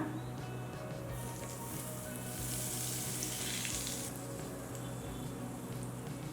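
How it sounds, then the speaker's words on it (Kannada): Steady sizzling and crackling of asafoetida and dried red chillies frying in hot oil, continuous and fairly close, with a low hum underneath. "ಚಟ್ನಿಗೆ ಇಂಗು ಮತ್ತು ಒಣಮೆಣಸಿನ್ಕಾಯಿ ಒಗ್ಗರಣೆ ಹಾಕ್ಕೊಳ್ಳೋಣ"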